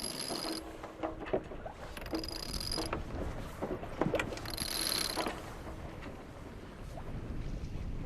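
Ratchet mechanism of a furling mainsail on a sailboat mast clicking in short bursts, with wind rush and creaking gear on deck around it.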